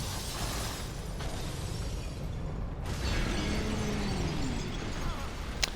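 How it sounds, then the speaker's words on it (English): Crystal-laden belly of a creature bursting in Dark Souls Remastered, a dense, sustained crashing explosion with shattering debris filling the whole span at steady loudness. "A big crystal tummy explosion."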